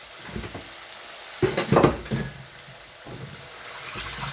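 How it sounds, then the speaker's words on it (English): A spoon stirs egusi soup in a pot over medium heat, with bursts of scraping and clinking against the pot in the middle and quieter stirring before and after. Nobody talks. "And then you stir. You stir."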